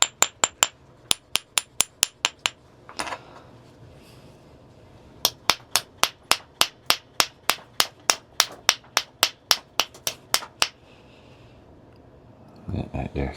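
Sharp, ringing hammer strikes on freeze-cracked Knife River flint in quick rhythmic bursts while knapping, separated by short pauses, with a faint scrape and rumble near the end.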